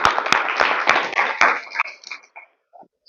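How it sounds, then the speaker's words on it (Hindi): A seminar audience on printing and self-branding gives a short burst of scattered claps that quickly thins out and fades, with voices murmuring underneath. "इसलिए अपने लिए ताली बजा दो आप एक बार"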